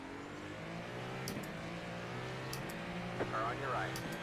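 Race car engines in a racing video game hum and drone steadily at mid distance, with a few cars passing by and some tire noise, all under a voice talking over the race.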